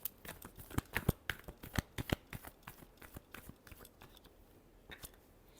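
Tarot cards are shuffled by hand, close and distinct, with a quick run of riffling slaps and flicks that is busy at first, then thins to a few softer taps, no voice over it.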